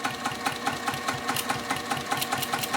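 A sewing machine back stitches across quilt sashing, a rapid, even mechanical chatter of needle strokes running steadily up close with no talking.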